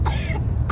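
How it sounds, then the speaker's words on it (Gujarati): A short, rough cough, close and fairly loud, followed by a brief second burst, with no talking. "કેટલી બધી ઉધરસ થઈ ગઈ છે."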